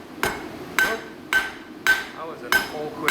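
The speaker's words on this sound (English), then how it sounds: "That was an awkward hammer blow." Five evenly spaced hammer blows strike hot metal during forge upsetting work. Each is a sharp, bright ringing clank close to the listener, about half a second apart.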